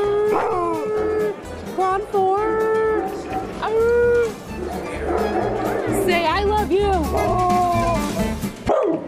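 Dogs at a televised dog show yelp and howl in repeated rising and falling cries, fairly close and loud, mixed with excited talk from people throughout.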